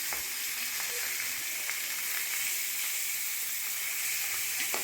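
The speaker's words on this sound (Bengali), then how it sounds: "মাছগুলোকে উল্টে দিয়ে লো টু মিডিয়াম ফ্লেমে মাছগুলোকে একদম লাল লাল করে ভেজে নিচ্ছি" Pabda fish fry in oil on a tawa pan over low to medium flame, a steady soft sizzling hiss with faint scattered pops, close and fairly quiet, without any speech.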